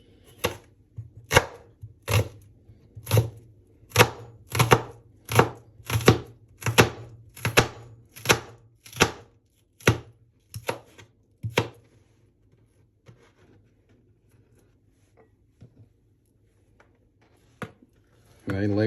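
A knife chops onions on a cutting board for a breakfast omelette, giving about seventeen sharp, evenly spaced thumps over twelve seconds, then a quiet stretch with one late knock and a low hum underneath.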